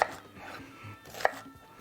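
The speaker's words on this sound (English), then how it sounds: "we're gonna just cut this, rough chop it, just to help out the blender" A knife rough-chops tomatoes on a board for salsa, a few soft irregular cuts with one sharper chop standing out, close and without talk.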